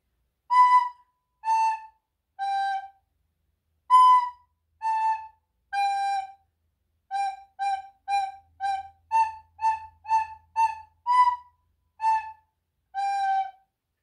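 A recorder plays a simple tune in short, detached notes, around eighteen of them, each clipped off with a small silence before the next.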